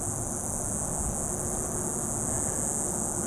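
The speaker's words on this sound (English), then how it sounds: "I can hear the crickets." Crickets chirp in a steady, dense high-pitched drone on a very still night outdoors, with constant low background rumble and no voices.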